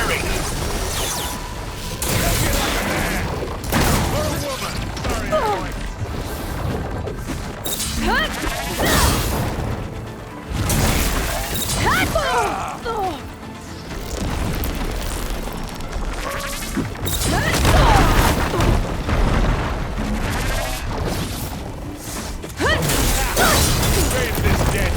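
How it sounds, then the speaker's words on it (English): Supporting gunfire and explosions during combat in Horizon Forbidden West: a dense, noisy battle soundscape of repeated crashes, booms and mechanical clatter that continues throughout, with voices speaking over the din at times. "it looks like Zoe's giving us some supporting fire"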